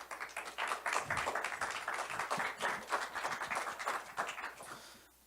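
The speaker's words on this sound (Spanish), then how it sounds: "recibámoslo con un fuerte aplauso" An audience at a Live Digital 2024 talk on immersive technologies claps for an arriving speaker, sustained rapid clapping from many hands, moderately distant, that thins out and stops near the end.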